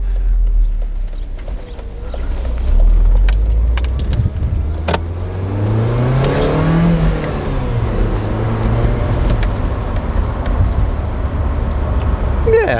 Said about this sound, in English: It's hardly a desirable sports car noise, though, is it? I imagine the supercharged version sounds a bit more entertaining